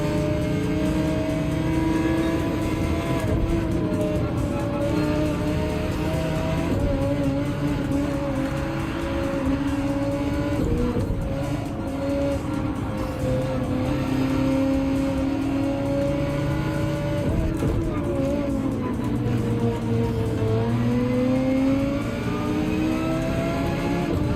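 Race car engines from the Gran Turismo 7 video game, two Ferraris on worn tires in a daily race: continuous loud engine drone with rising and falling revs and gear changes, steady throughout with no talk.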